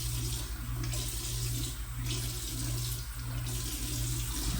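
Tap water runs steadily into a sink while someone rinses their face, a continuous moderate hiss with faint splashing variations and no talking.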